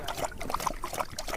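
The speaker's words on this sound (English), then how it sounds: "In between runs, the team slurps down some water." Harnessed sled dogs on a sunny, roughly 20-degree day lap and slurp water between runs, giving a quick series of wet, close splashy laps and trickles.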